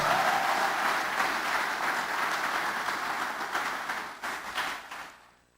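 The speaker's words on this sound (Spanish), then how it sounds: "Dale un fuerte aplauso al Señor" A church congregation applauds during a pastor's sermon, a sustained wash of clapping that gradually thins and fades out near the end.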